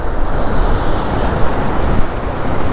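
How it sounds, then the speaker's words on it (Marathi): Rough waves of the Arabian Sea roar and churn loudly and continuously, mixed with gusting wind buffeting close by. "पूर्ण अथांग असा अरबी समुद्र खवळलेला समुद्र"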